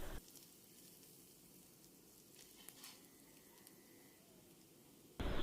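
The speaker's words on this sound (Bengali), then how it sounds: "এই মশলাটাকে কিছুক্ষণ ভেজে নিব।" Chili and turmeric powder frying in oil, a soft, steady sizzle close by, with a few light stirring clicks and a louder burst at the very start and end.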